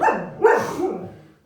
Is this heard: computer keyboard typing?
no